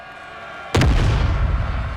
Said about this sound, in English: Let's see if we can't fire some canister at them.